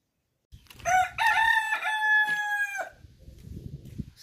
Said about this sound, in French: Vous avez remarqué les chants du coq en Espagne?